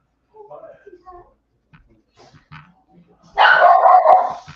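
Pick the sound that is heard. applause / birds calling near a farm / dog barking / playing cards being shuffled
dog barking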